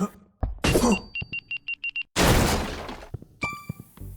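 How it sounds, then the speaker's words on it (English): In a video game, a barrel gives six evenly spaced electronic beeps in quick succession, followed by a loud, long crashing explosion; a noisy burst precedes the beeps and clattering tails off after. "when you hit it, it makes this beep beep beep beep beep, beep sound and then explodes after 2 seconds"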